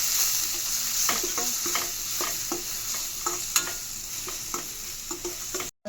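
Potato chutney with curry leaves is heated and stirred in a pan, giving a steady bright sizzle with repeated scraping spoon strokes at an uneven rhythm, close up and alone for about six seconds.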